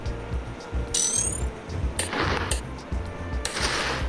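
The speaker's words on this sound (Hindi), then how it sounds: "दुश्मन के पास जो कैनन है भाई, सब फट रही है वो कैनन" Cannon towers firing and exploding in the tower-defence game Bloons TD Battles 2, a string of short bright bursts and mechanical clacks over a steady low game soundtrack, loud and close, with no talking.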